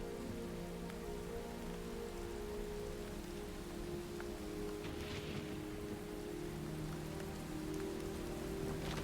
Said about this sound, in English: You hear rain and thunder.